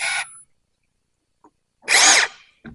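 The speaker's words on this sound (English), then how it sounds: "I'm going to drill this pilot first." Two short bursts of power drilling a pilot hole for a set screw, a brief whir at the start and a longer, louder run later, separated by near silence.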